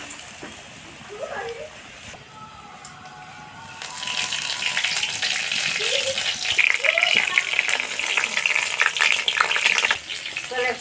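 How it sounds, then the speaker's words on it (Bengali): Battered pumpkin leaf rolls dropped into hot oil set off a bright, crackling sizzle that builds partway through and stays loud and busy, following a quieter opening with a few faint sounds. "এবার আমি রোলগুলোকে ব্যাটারের মধ্যে চুবিয়ে চুবিয়ে তেলের মধ্যে ছেড়ে দেবো।"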